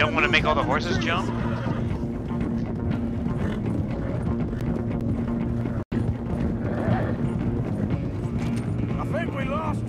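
Horses whinny and hooves clatter in a busy Red Dead Redemption 2 scene, with continuous engine-like rumble and people talking loudly over it.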